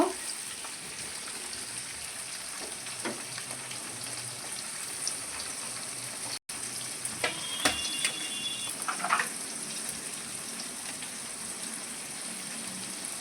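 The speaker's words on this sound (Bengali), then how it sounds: "হলুদ ক্যাপসিকাম লাল ক্যাপসিকাম দিয়ে দিলাম দিয়ে ভালো করে নাড়াচাড়া করে নেব" Yellow and red capsicum being stirred in a frying pan give a steady sizzle with soft crackles and occasional scrapes, running continuously at close range with no talk.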